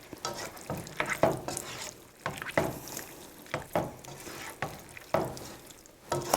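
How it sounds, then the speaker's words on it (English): A spoon stirs tomato basil sauce thickened with heavy cream in a pan, with repeated scraping strokes in a steady rhythm, each stroke a soft swish over a faint simmer. "And you want to continue stirring because you don't want it to stick."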